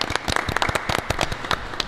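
A small audience applauds the hosts at the Audi Martinique car dealership, a brief patter of scattered, fairly close hand claps.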